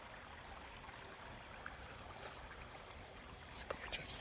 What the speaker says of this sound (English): So I'd like to hear the river.